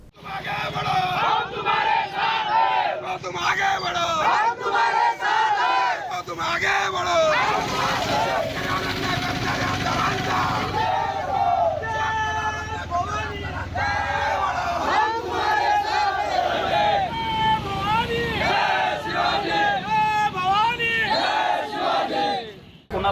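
A crowd of farmers cheers and chants loudly during a victory procession from Simbhora Chowk to the tehsil office, with continuous shouting and celebratory cries throughout.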